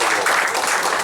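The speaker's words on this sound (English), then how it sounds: "One or two people really have a round of applause, please." Brief burst of applause at an essay contest award function as flowers are presented to the chief guest, a short dense patter of many hands clapping together.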